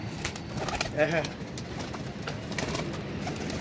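Soft coos from flying pigeons rise and fall over a busy background murmur, close by and fairly faint.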